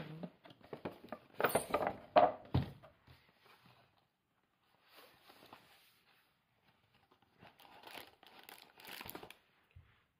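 Packaging around a 60 ml Fragrance Fleur perfume diffuser gift is opened, with loud close crinkling and tearing in bursts, a quiet pause, then softer rustling and handling.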